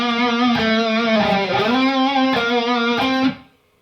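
An electric guitar plays a lead phrase from a solo, with clean sustained notes, a bend and slides over about three seconds before cutting off into silence.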